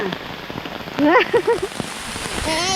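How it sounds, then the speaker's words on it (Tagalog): Steady heavy rain hisses throughout, drumming on a surface, while a voice briefly speaks over it in the middle. "Lakas ng ulan."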